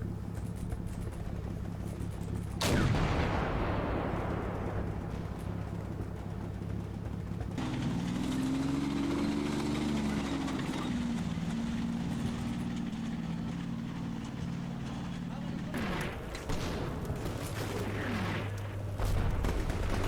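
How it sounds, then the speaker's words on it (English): A T-72 tank fires its cannon in the Combat Mission Shock Force 2 video game: sharp booms land a few seconds apart over a continuous low engine rumble. "The T-72 fires a couple of shots at likely sniper positions."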